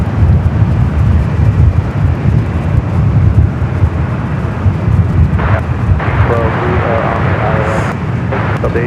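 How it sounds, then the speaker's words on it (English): A Delta Boeing 767-300ER airliner arriving at LAX from Honolulu, heard as a steady, loud broadband jet roar holding throughout without a break. "up next is Delta 767 at 300 ER, the flight coming in from Honolulu, flight 427"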